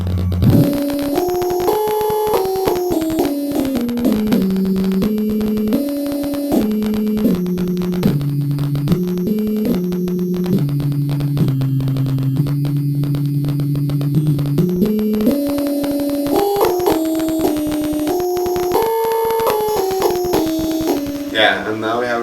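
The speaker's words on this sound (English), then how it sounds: "which I've just called the swarm instrument" A bee-inspired swarm synthesizer instrument sounds a continuous buzzing, multi-voiced tone that glides and steps between pitches, rising and falling in smooth runs for over twenty seconds.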